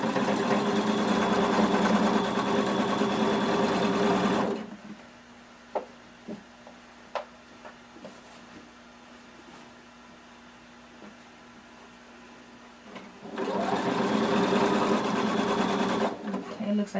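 A sewing machine runs loud and close while sewing swimsuit lining, stops for several seconds of near quiet with a few soft knocks and a faint hum, then resumes its steady whir.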